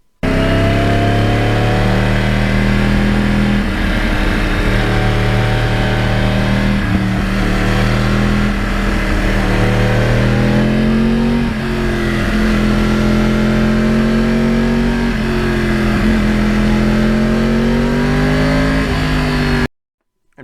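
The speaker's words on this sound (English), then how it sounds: "this bike is designed right from the get-go to grab that throttle and hold it wide open" A 2009 Yamaha R1 crossplane motorcycle engine held at full throttle, giving a loud, close, sustained roar whose pitch rises and falls slightly for about twenty seconds before cutting off abruptly, with no talk.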